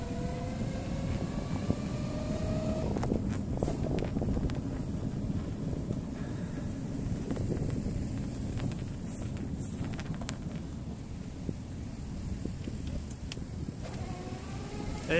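Gusty wind buffets the microphone in a low, rumbling roar that stays steady and moderately loud, with no one speaking, on the seafront at Weston-super-Mare during a Sinclair C5 ride.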